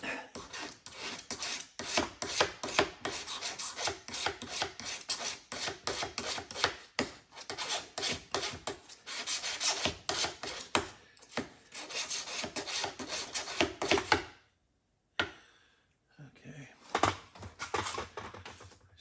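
Sandpaper rubbed back and forth by hand on a 1966 Corvair driveshaft U-joint, a close, dense rasping scrub in quick repeated strokes that stops briefly near the end before resuming.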